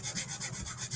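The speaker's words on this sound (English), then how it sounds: "I'm just going to give it kind of a light sand." Light hand sanding on the rough end of a small wooden piece from a chalk craft kit, a steady close rubbing rasp in repeated back-and-forth strokes with no talking.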